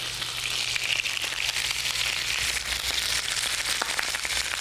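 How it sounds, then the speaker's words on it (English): Chicken pieces searing joint side down in a hot pan, a steady dense sizzle and crackle running evenly throughout, close and fairly loud with no talk. "And we're going to sear that first, so that will seal it."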